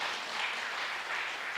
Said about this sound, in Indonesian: Tolong katakan amin dan tepuk tangan dulu dong buat Tuhan Yesus.